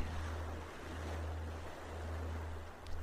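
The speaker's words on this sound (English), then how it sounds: "Listen to the waves." Ocean waves washing on a beach surf, a soft steady wash with a low constant rumble underneath, fairly faint and continuous with no voices.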